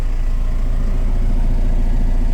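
A Linde H80D-03 eight-tonne forklift idles with its Perkins 4.1-litre inline six-cylinder diesel, a steady, loud, low rumbling drone that stays even throughout with no voices.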